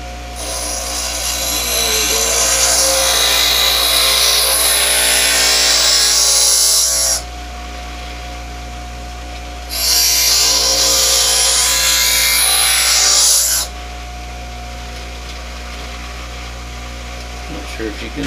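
A power grinder works a steel file into a knife blade, making two long, loud, steady grinding bursts separated by a short pause, then falling to a quieter hum.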